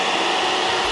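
Cartoon vacuum cleaner running with a loud, steady whirring roar, alone and continuous for under a second.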